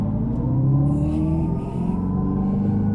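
A 2024 Dodge Charger Daytona EV launches off the line from a brake-torqued start, its electric drive giving a loud, rising tonal whine layered over a low rumble.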